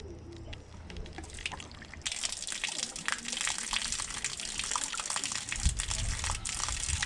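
An auto-syphon unit on a toilet flushes: a low trickle and hiss suddenly gives way to a loud, steady rush of gushing water that keeps pouring at close range.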